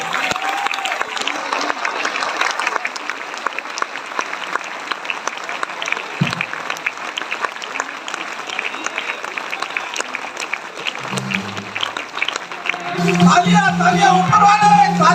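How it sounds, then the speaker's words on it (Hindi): Audience applause fills a stage event in a hall, dense steady clapping from a large crowd with scattered voices and cheers, swelling louder near the end. "एक बार जोरदार तालियां"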